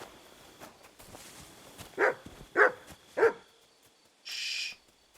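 A dog in the medieval role-playing game Kingdom Come Deliverance 2 gives three short, gruff vocal bursts in a row over quiet ambience, followed by a brief hissing sound.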